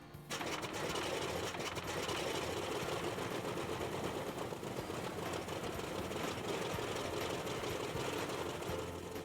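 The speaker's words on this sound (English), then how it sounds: "This type of engine check is routine." An F6F Hellcat fighter's radial piston engine runs through a routine ground engine check, a continuous rough, rapid clattering drone at steady power for about nine seconds.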